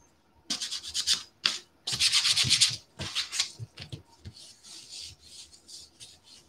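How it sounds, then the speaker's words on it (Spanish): Close, steady rasping of sandpaper rubbed back and forth over a wooden frame in quick strokes, pausing briefly, then continuing more lightly. "Entonces ya dejamos lijadito el marco"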